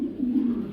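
A male Afghan Lahori pigeon gives a steady low cooing, continuous and fairly close, with no talk over it.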